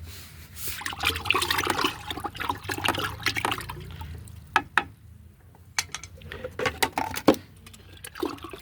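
Water being stirred by hand in a container, mixing mustard cake fertilizer into about ten litres of water; steady sloshing and swishing at first, then a few separate splashes and drips, close by with no talk.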